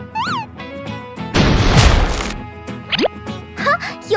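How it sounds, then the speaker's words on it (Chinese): A cartoon cannon fires at a block of ice, a loud sudden blast with a crashing, rumbling burst lasting about a second, set between tonal cartoon sound effects and music. "我们用大炮来轰一下试试。"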